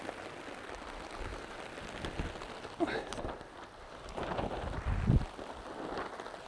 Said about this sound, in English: Can't believe this rain.